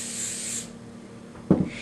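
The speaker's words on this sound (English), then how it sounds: "I'm just going to spray my pan here" Cooking spray hisses onto a muffin tin in one short burst of about half a second, followed by quiet and a brief soft knock of the pan.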